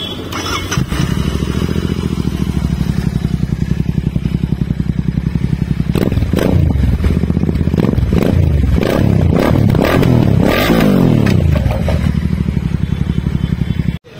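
A Royal Enfield Interceptor 650 twin idles with a steady, close, loud thumping putter, then is blipped through several sharp revs that rise and fall before settling back to idle.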